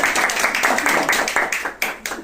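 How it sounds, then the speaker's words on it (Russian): Applause and clapping from a small group gathered at the end of a long hiking trail, a short burst of mixed claps close by that thins out toward the end, with voices murmuring underneath. "Аплодисменты."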